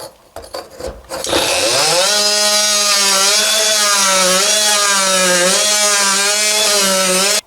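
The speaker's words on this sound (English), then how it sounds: "Maybe use an oscillating tool to cut that stud up a bit more." An oscillating multi-tool buzzes steadily as it cuts into a wall stud during a radiator replacement, a loud continuous whine lasting several seconds after a few brief knocks and clatters.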